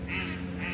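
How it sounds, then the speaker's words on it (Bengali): A long-tailed, myna-like bird calls from a tree beside a quiet lake in late afternoon, giving two short, harsh, evenly spaced calls over a steady low background hum. "পাখি ডাকছে গাছে"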